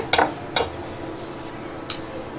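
A spoon knocks against a bowl while coarsely ground homemade pickle masala is transferred into it, giving a few sharp, isolated clinks spaced apart over a quiet kitchen background.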